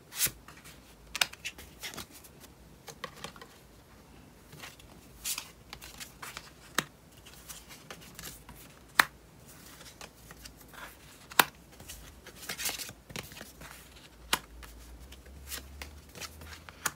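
Tarot cards being shuffled by hand in a quiet room, with repeated papery riffles and soft slaps and no talking.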